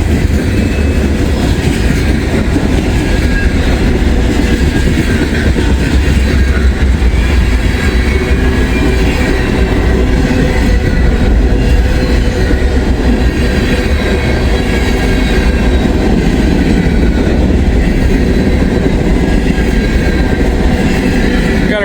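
A long freight train with a Chicago and North Western car keeps rumbling past nearby, its wheels clattering steadily over the rails at a constant, loud level with no voices.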